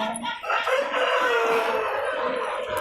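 Chickens cluck steadily and loudly close by, with a rooster crowing among them, a dense continuous farmyard fowl chorus with no talking.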